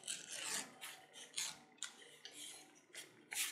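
Leather edges being beveled by hand for a tomahawk or belt axe sheath, a series of short close scraping strokes in an uneven rhythm, quiet and with no talk.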